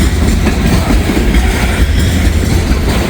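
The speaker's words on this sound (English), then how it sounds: "Got a nice long train here. This is also why I love coal trains." Long coal train rolling past close by, a loud, dense, continuous rumble and clatter of wheels on rails.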